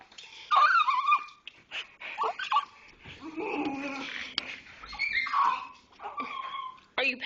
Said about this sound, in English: Are you a bad puppy? Were you bad? Are you whining?